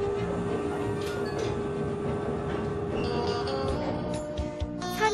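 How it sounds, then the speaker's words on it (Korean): A rail bike coasts downhill along a mountain railway track in Gangwon Province, giving a steady, loud rolling rumble with metallic squeals and clicks over the rails throughout, with no voices. "이곳의 레일바이크는 산악지대답게 짜릿한 속도감을 느끼며 달리는 쾌감이 있다"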